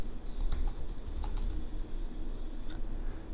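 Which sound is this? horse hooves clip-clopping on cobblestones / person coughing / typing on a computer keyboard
typing on a computer keyboard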